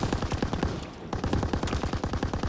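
An enemy MG machine gun in Call of Duty WWII hammers out fast, evenly spaced rounds in a loud close burst, breaking off for a moment before resuming just as rapidly.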